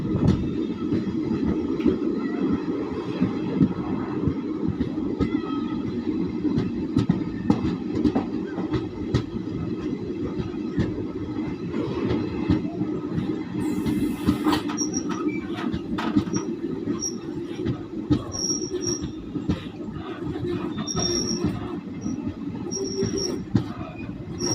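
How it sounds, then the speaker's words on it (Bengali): Inside the Malda Town to Balurghat passenger special, a continuous loud rumble of wheels on track with rattling carriages, occasional squeals and faint high tones, sustained throughout with no voices. "টাউন থেকে বালুরঘাট পর্যন্ত প্যাসেঞ্জার স্পেশাল হিসেবে চলে"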